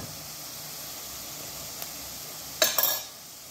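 Onion with turmeric and goda masala sautés in a pan before potatoes are added, a soft steady sizzle with a brief bright crackle and scrape of stirring near the end.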